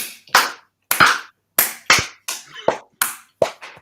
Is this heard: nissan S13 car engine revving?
no